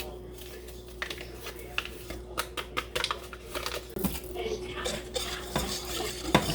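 Vanilla instant pudding mix is whisked in a bowl for a pina colada cake, the whisk tapping and scraping in a fast, uneven rhythm over a low steady hum.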